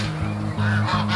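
Farm ducks honk loudly and close by, giving a few repeated nasal calls in quick succession that run together over about a second.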